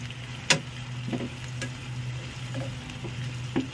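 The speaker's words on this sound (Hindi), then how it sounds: "अच्छे से कलर चेंज हुए तक अच्छे से भुनेंगे तेल में गाइस" Minced meat keema browning in oil in a pan, a steady sizzle broken by scattered sharp clicks and taps of stirring, heard close and alone.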